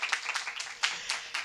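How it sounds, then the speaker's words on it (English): Applause for Professor Silvio at an innovation open call event, a short burst of hand clapping with irregular broadband bursts, fairly faint and distant, fading in and out over a second and a half. "Claps for Professor Silvio."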